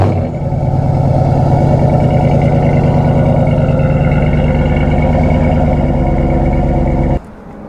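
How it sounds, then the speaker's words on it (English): 2014 Dodge Charger R/T AWD with quad-tip exhaust idling loud and close, a deep steady burble lasting about seven seconds before cutting off abruptly. "Let me get a little exhaust clip for you guys."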